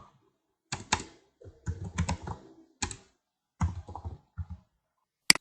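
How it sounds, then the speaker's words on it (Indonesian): Typing on a computer keyboard: short bursts of key clicks in several separate clusters, close and clear, with a sharp single click at the end and no talk. "Terus di sini kita ketik nama pelanggan."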